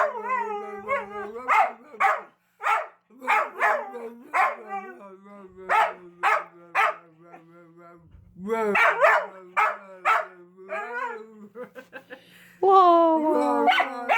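A dog barks in short, sharp bursts and breaks into a rising howl, close and loud, while people talk over and between the barks.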